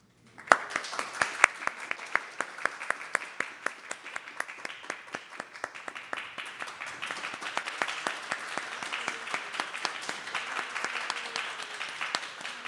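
Sustained audience applause at a Bhakti Shastri graduation ceremony, many hands clapping in a dense, steady roar that swells slightly toward the end, heard fairly close in an indoor hall.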